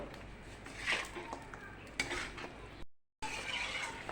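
Chicken pieces being mixed with cooked spices in a pot in a home kitchen, with a soft scraping and stirring murmur and a few sharp spoon clinks against the pot, broken by a brief gap.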